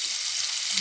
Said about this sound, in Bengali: পেঁয়াজ বাটাটা, আদা রসুনের পেস্টটা দিয়ে দিলাম